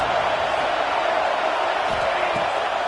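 A football stadium crowd in a college football video game, Baylor versus NC State, roaring in a dense, steady wash of cheering that holds level throughout without any distinct peaks.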